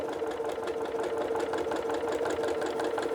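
Sewing machine stitching quilt pieces together for a Christmas star Santa cookie rug, running steadily and continuously at close range with a fast even whir throughout.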